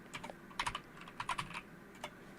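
Bursts of typing on a computer keyboard, close and fairly quiet, with clusters of quick keystrokes separated by short pauses.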